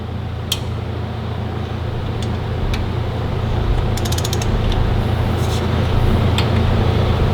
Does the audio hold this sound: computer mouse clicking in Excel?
no